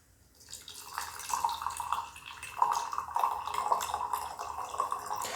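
Gyokuro green tea being poured from a teapot into a cup, a soft steady trickle of liquid that starts after a short pause and continues quietly, fairly close and without talk.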